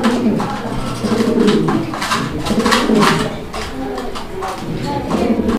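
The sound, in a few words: pigeons cooing, black Mundian racing pigeons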